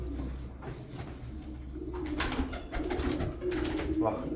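Pigeons coo softly in low murmuring calls inside a loft, several birds close by, with rustling and some faint voices in the background.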